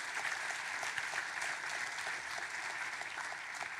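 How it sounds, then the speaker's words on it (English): Sustained clapping from an audience, an even wash of hands at moderate distance, with no talking heard over it. "How about if we clap for them all at once?"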